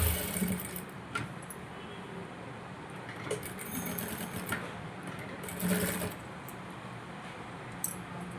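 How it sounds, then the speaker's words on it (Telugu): A sewing machine runs a top stitch around the neckline of a frilled model top, its steady motor hum continuous throughout with brief bursts of faster stitching, close and alone without talk. "ఇలా నెక్ చుట్టూరా మొత్తం ఒక టాప్ స్టిచ్ అయితే వేసేసుకోవాలి."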